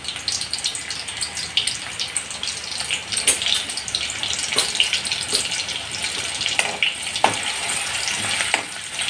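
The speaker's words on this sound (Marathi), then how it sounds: "तेल तापलं का त्याच्यात कांदा" Onion frying in hot oil with a bay leaf in a home kitchen, a close, steady crackling sizzle with scattered sharp pops and no talking.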